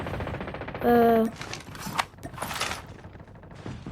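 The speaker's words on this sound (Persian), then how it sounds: "دوباره من یه شات دیگه زدم، یه شات دیگه هم زدم" Gunfire in a video game: a loud cluster of rapid shots at close range, followed by scattered cracks and mechanical rattles over a busy game background.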